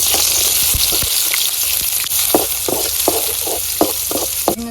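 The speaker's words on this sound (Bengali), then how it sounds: "এই কড়াইতে আমি তেল দিয়ে দিই কুচি দিয়ে দিই" Chopped ingredients hit hot oil in a wok and fry with a loud, steady sizzle, broken by a series of sharp clacks as a utensil stirs the pan.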